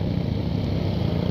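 A Suzuki Satria FU motorcycle fitted with a racing exhaust. Its engine gives a steady, loud, close rumble that does not change through the brief stretch, with no talk.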